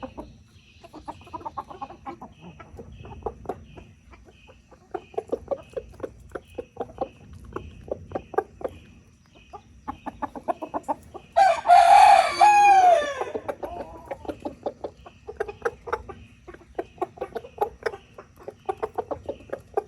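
An American Buff rooster crows loudly once midway through, with steady soft clucking from hens throughout, fairly close.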